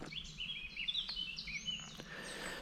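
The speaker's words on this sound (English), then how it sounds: "Blue skies, birds are chirping, sun's out" Birds chirp outdoors on a sunny, clear-sky day at the Dachau concentration camp memorial grounds, a continuous bright twittering of several birds close by with no talking.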